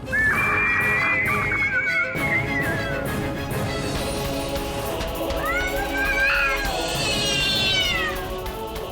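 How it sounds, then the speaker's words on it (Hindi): A cat cries out in drawn-out, wavering meows, loud and close, with layered background sound and a second rising wail near the end. "बिल्ली के रोने की आवाज?"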